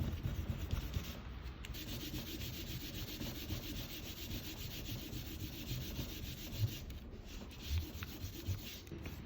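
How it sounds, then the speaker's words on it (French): An eraser rubbing out pencil construction lines on paper while drawing the Storm King from Fortnite: a continuous, soft, close scrubbing with a few small bumps near the end. "on peut gommer nos traits de construction"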